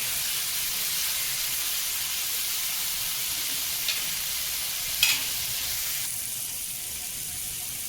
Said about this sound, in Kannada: ಇವಾಗ ಟೊಮೆಟೊ ಹುರ್ಕೊಂಡಿದ್ದೀನಿ ರೀ, ಇದನ್ನು ತೆಗೆದ್ಬಿಡೋಣ.